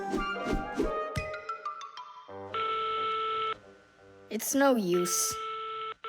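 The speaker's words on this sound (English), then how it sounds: "Oh, they answered the phone." A cartoon telephone gives tonal beeps and ringing tones, steady electronic notes stopping and starting over several seconds, with a character speaking briefly between them.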